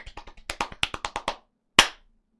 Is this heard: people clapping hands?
yes